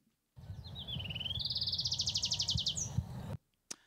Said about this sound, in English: So I'm going to play a bird song now,